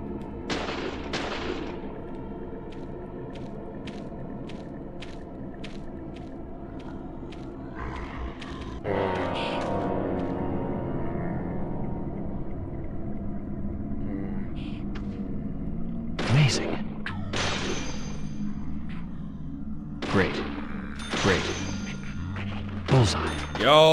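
Gunfire in the video game Deadly Premonition, a series of sharp shots with a quieter stretch between them, set against a steady game soundtrack and ambience, with a player talking over parts of it.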